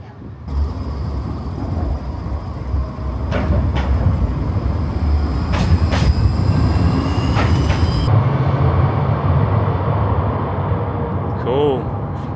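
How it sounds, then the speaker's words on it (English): A tram in a Slovakian city rumbles closer and rolls past near a tunnel, a steady low grind building over several seconds with faint squeals, under light talk and street noise. "Oh, we've got a tram coming now."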